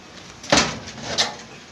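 A stove's oven door is swung open and shut during a repair, giving a sharp knock followed a moment later by a second softer clunk against a steady hiss.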